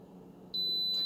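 An Instant Pot Viva pressure cooker beeps to signal it has finished cooking hard-boiled eggs, a single clear electronic tone starting midway over faint background hum.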